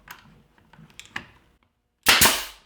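A nail gun fires a nail into picture frame molding for a float frame, one sudden loud, close crack after a few light clicks and taps of handling.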